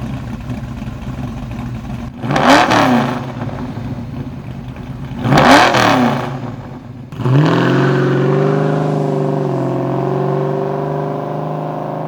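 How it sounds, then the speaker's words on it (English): A car engine revving through a Flowmaster muffler, with two sharp throttle blips followed by a sustained, rising rev that settles into a steady, loud, close exhaust drone. "this is a muffler that will give you open header performance, but still maintain a reasonable sound"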